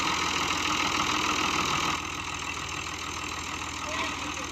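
A Fiat 480 tractor stuck in the field idles nearby with a steady, low, rumbling engine note that drops slightly in loudness partway through.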